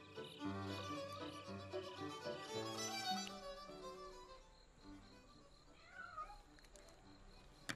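A cat meows softly a few times in a film scene, faint and close, over quiet background music.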